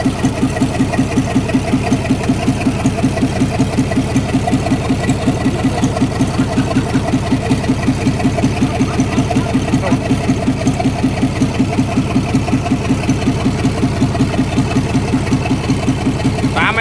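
A Rocky 6BG motorcycle engine idles close by with a fast, even, loud chugging beat held steady throughout.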